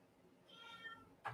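A cat meows loudly, a drawn-out high cry that swells in the middle, with a sharper burst near the end over quiet room noise.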